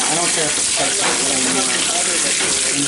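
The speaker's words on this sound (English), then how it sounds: "They just let the water pour in." Water pours steadily into an LG WT7400 top-load washing machine during a Normal cycle with shirts, a continuous broad splashing rush under a person talking nearby.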